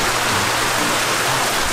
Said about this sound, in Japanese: 雨が強くなって